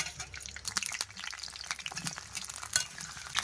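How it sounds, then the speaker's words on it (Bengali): Quiet sizzling of potato pieces frying in oil, with scattered crackles and light scraping of a utensil in the pan, close by. "আলু ভাজার জন্য তেল দিয়ে দিলাম আলুর পিসগুলো দিয়ে দেব"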